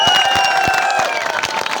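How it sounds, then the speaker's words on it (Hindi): A night-time village rally crowd claps and cheers in support: loud, close applause with scattered sharp claps and shouts, voices rising over the rhythm, the clapping growing more ragged toward the end. "उन साथियों को भी जोरदार तालियां"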